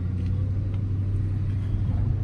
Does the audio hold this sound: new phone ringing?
no